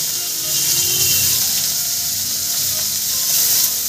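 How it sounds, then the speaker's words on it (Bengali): Chopped onion hits hot oil already tempered with cinnamon sticks, black peppercorns and bay leaves. It gives a loud, continuous close sizzle with a bright hissing texture and faint crackles throughout. "এবার আমি এর মধ্যে দিয়ে দেব কিছুটা কুচানো পেঁয়াজ"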